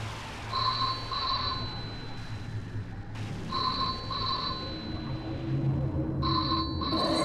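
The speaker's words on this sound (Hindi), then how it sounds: "लगता है फोन की घंटी बज रही है।" A telephone rings at night in a horror drama, three bursts of a double electronic trill in a faint quiet room, evenly spaced across the stretch with no voices.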